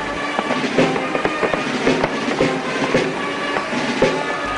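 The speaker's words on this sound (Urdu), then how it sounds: "خوشی کے اظہار کے لیے آتش بازی کا شاندار مظاہرہ کیا گیا۔" Fireworks go off at a celebration welcoming released prisoners, heard as a dense, continuous crackle with repeated louder popping bursts. The noise is steady and loud throughout, with no talking.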